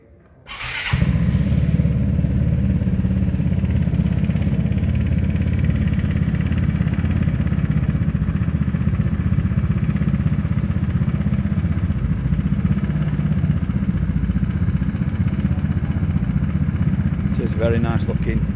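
A Vespa 300 scooter engine starts and then idles in a steady, loud, close drone for the rest of the clip, with a brief squeal near the end and speech over it.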